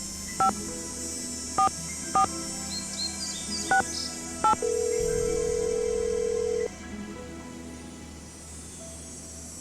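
A telephone in the Nancy Drew game Ghost Dogs of Moon Lake gives several short tonal electronic rings in a loose rhythm, then a longer steady tone, heard close and alone against a quiet background with no talk.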